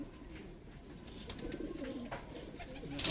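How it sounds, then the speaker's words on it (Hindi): A Punjabi pigeon coos softly and close by, low murmuring calls repeating over quiet background noise, with a slight rustle toward the end. "पंजाबी कबूतर है मेरा"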